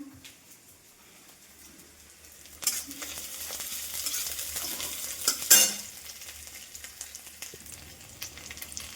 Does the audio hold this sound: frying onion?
yes